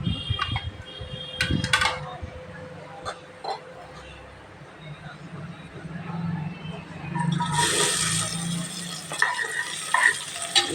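Onions are stirred and fried in a pan, with a spoon scraping and clinking against the metal over a soft sizzle that rises sharply in the last few seconds, and a voice talks briefly.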